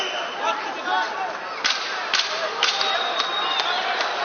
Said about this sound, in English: There's the 10-second clapper.